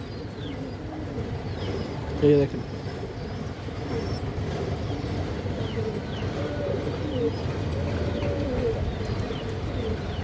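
Giribaz pigeons coo softly in a loft among a mixed flock, low repeated murmuring calls continuing throughout, with someone speaking briefly near the start.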